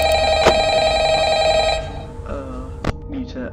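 A telephone in the video game Ultimate Custom Night rings with a loud, sustained electronic bell tone that cuts off after about two seconds, followed by sharp clicks and faint game noises.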